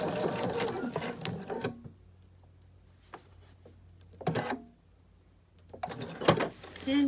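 Sewing machine running a fixed stitch on minky plush microfiber fabric, a few short mechanical whirring bursts separated by quiet pauses, close and moderately loud.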